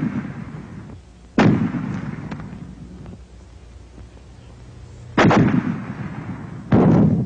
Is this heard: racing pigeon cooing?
no